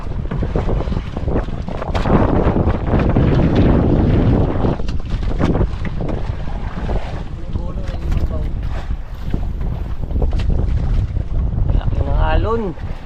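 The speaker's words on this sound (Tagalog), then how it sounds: "Laki ng alon." Big sea waves slap and surge around a boat at sea while strong wind buffets the microphone, a loud continuous roar with occasional voices and a whistling sound near the end.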